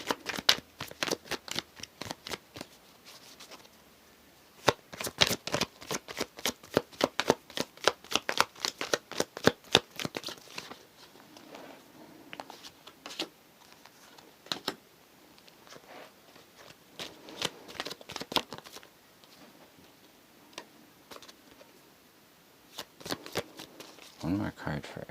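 Tarot cards shuffled by hand in a long run of rapid riffles and flicks, close and crisp, with short pauses between bursts and occasional quiet speech.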